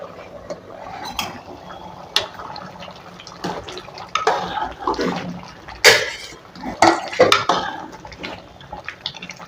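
Cooked dal poured into a pan of ridge gourd kootu, giving soft liquid splashes with irregular clinks and scrapes of pot and utensil.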